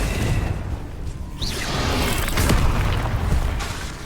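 Confringo fire spell explosion in the video game Hogwarts Legacy: a deep rolling boom with a whooshing burst of flame, loud and close, sustained for a few seconds with crackling bursts and no speech.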